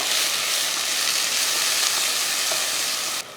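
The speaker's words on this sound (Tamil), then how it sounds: "வெங்காயம் இந்த அளவுக்கு வதங்கினா போதும்" Steady, dense sizzling hiss of onions sautéing in a hot pan, continuous and fairly loud throughout, dropping off sharply right at the end.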